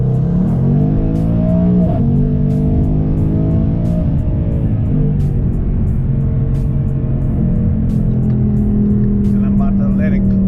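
A 2019 Ford Mustang GT with a 10-speed automatic accelerates at full throttle from about 40 mph, its engine roaring loudly and steadily as the pitch climbs through the gears over roughly ten seconds.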